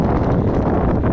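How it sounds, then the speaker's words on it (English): Heavy wind buffeting a microphone while riding a 2024 Talaria Sting MX3 electric trail bike on a windy day in Florida, a dense continuous low rumble with no other sounds. "it is really windy today here in Florida"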